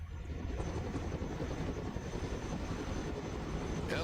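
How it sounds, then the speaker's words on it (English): A helicopter flies in the Broken Arrow video game, a steady, fairly quiet rotor and engine rumble that holds a constant drone throughout. "Helicopters are impressive machines. Boy, are they noisy."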